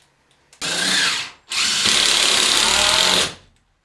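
A power screwdriver drives screws into a ceiling board in two loud, close whirring bursts, a short one and then a longer sustained run, separated by a brief pause, with no talking.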